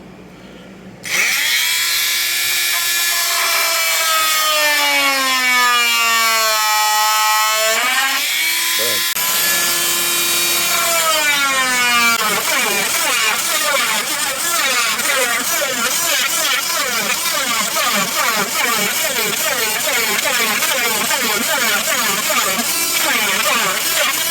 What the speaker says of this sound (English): Once you get that rectangle cut with the oscillating saw